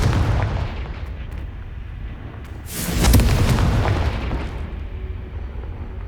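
A Confringo blasting spell explodes in the Hogwarts Legacy video game, a loud booming burst rising out of a dense, rumbling game soundscape and then fading back into it.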